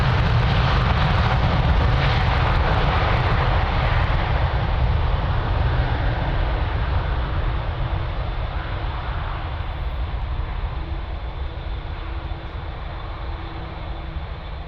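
A jet airliner rolls down runway 02 at Lisbon Airport and takes off, a loud continuous engine roar that fades gradually as it climbs away, with no talk.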